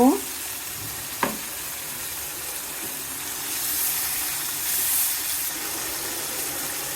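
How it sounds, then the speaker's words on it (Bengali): Spice paste of chili and coriander powder with a splash of water sizzles steadily in a pan for cow liver curry, with a brief stir early on and a soft, continuous frying hiss. "কিছুক্ষণ মশলাটা একটু কষিয়ে নিব।"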